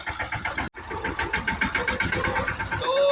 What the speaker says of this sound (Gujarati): આપણે હાંકવાનું છે ટ્રેક્ટર